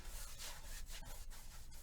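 Paintbrush spreading liquid white across a canvas in a steady, close scraping rub, with continuous broadband swishing strokes and brief breaks between passes, no talking.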